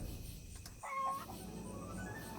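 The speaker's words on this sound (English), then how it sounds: "Chicken!" A chicken clucks once in a dungeon crawler video game, a short, moderately loud bird call set against a steady game backdrop.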